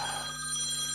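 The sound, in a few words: phone ringing with a call from mum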